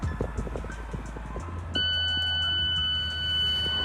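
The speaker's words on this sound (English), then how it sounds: "you put the key in the ignition and you wait for the beeping noise" A steady high-pitched electronic tone from an Alfa Romeo 4C Coupe's ignition starts partway through and holds, ringing over a low engine-like hum and faint clicks.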